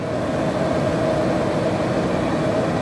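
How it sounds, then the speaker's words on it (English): An open-top limousine's engine idles with a steady, even hum, a continuous mid-level drone that holds unchanged throughout with no voices over it. "Listen to that engine."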